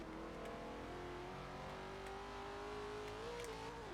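Restomodded 1968 Pontiac Firebird with a 730-horsepower engine in Forza Horizon 4, a steady droning rev that climbs in pitch near the end, heard alone under faint background noise.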